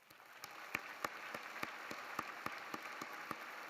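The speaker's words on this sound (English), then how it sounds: "Let's give them a round of applause." Graduates and guests at an Auburn University spring commencement ceremony applaud in a large hall, a faint, far-off field of clapping with a few sharper, distinct claps standing out near the front.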